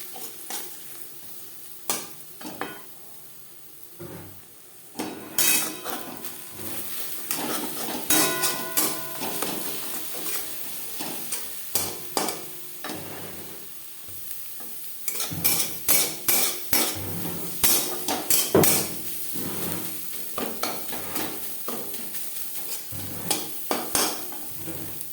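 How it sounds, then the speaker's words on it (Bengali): Eggs being stirred and fried in a pan to make egg bhujia, a soft sizzle under repeated sharp scrapes and clacks of a utensil against the pan, coming in busy irregular bursts. "ডিমের ভুজিয়া তৈরি করে নেব।"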